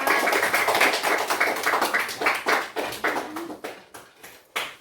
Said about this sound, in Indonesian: Tepuk tangan lagi ya.